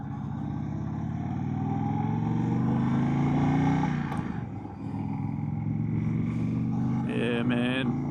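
A 2025 Indian Chief Bobber motorcycle with the 111 V-twin engine rumbles steadily at close range, its low drone swelling briefly and dipping mid-ride before settling, while people talk over it.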